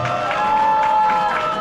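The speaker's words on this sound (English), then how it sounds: "round of applause for Brahm, please" Audience at an NIT Jamshedpur alumni meet in Atlanta breaks into steady, dense clapping with some crowd noise, a full round of applause that holds for the whole moment.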